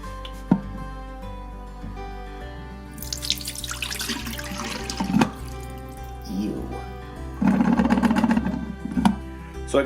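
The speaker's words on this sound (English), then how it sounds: "this is where all the dirty water goes into. It gets into this, so I'm going to take it and empty it out" Dirty water pours out of a Bissell Little Green portable cleaner tank into a sink, splashing and trickling in bursts, with handling clatter between pours and no talk.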